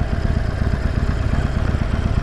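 Harley-Davidson Forty-Eight cruiser motorcycle engine running close by, a steady low rumbling throb with dense rapid pulsing and no speech.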